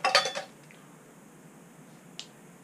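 Metal camping mess kit pieces, a small lid, little plates and a cup, clinking together in a short cluster of bright knocks, then one lone clink after a quiet pause.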